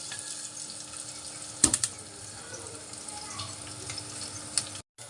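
Garlic sizzles in hot oil after cumin seeds in a pan, a steady close frying hiss broken by a few quick stirring clinks near the start.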